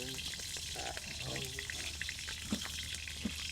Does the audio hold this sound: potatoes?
yes